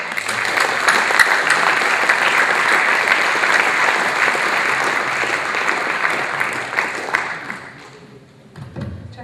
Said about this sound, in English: In another thunder of applause, kindly welcome Madam Toastmaster Naveen Kamil.